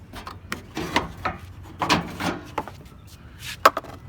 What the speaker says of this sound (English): just pull the header panel off, just like that